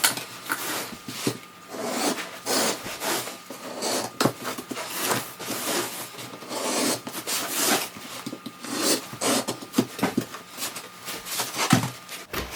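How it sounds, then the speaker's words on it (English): Filter media being trimmed with a blade along an aluminium frame of a ducted air conditioner or gas heater panel filter, giving close, continuous scratchy rasping and rubbing strokes with no talking. "cut along the aluminium. So we're cutting against the aluminium frame"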